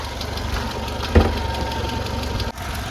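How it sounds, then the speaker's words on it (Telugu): A used 2015 Tata Zest XMS petrol engine idles steadily with the bonnet open, an even close-up hum and light ticking broken by a single knock or thump near the middle. "ఇప్పుడు ఇంజన్ ఆన్లో ఉంది. ఇంజన్ సౌండ్ అయితే మీరు వినొచ్చు."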